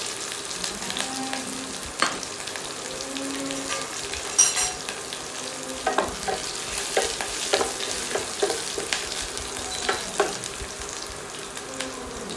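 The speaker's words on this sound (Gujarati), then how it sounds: "રાઈ થઈ જાય એટલે એની અંદર ઝીણા સમારેલા લીલા મરચા, લીમડો અને લાલ મરચા એ 3 વસ્તુ ઉમેરી લેવાની છે. એનો વઘાર કરીશું." Green chillies, curry leaves and red chillies tempering in hot oil with mustard seeds, a continuous close sizzle punctuated by sharp spitting pops and crackles.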